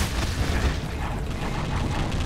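Booming blasts and heavy rumble from grenades exploding in the Brutal Heretic game, a dense, continuous low-end roar of impacts filling the whole stretch with no pause.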